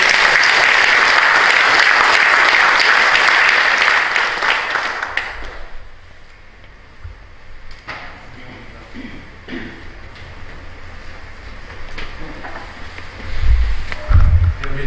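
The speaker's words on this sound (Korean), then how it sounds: "우리 서로 박수해 주시고 환영해 주시고 인사해 주시기 바랍니다" A church congregation claps at a commemorative worship service, a dense burst of applause for several seconds that cuts off, leaving quieter room noise, rustling and scattered thumps afterward.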